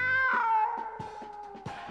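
An animated cartoon cat meows in a single drawn-out, falling cry, followed by a few softer mewing sounds, close and clear with no talking.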